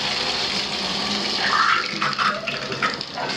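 Hot water gushing from a tap into a filling bathtub in a North Dallas home, a steady close rush of water with some splashing for a few seconds and no talk.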